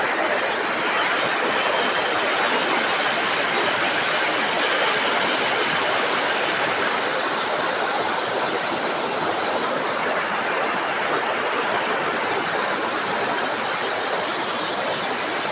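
A powerful waterfall at a cave mouth roars continuously during rain, a loud, broad rushing wash that stays constant throughout without any talking.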